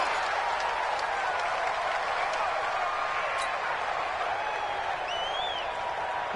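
Broad, steady crowd roar and cheering from a stadium in a PS4 American football video game, filling the whole stretch without pause, with faint game commentary-like tones and a brief whistle-like sweep near the end.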